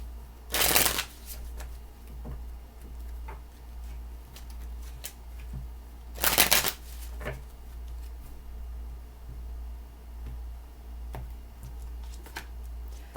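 Two short bursts of tarot cards being shuffled, one near the start and another a few seconds later, with quiet room tone and a few faint taps between.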